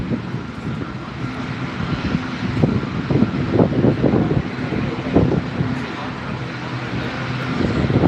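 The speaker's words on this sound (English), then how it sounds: "Right, here comes the plain white 738. Plain white 738 is just coming in now." A plain white Boeing 737-800 coming in to land at Gran Canaria Airport, a loud, steady jet roar with wind buffeting the microphone, building slightly toward the end.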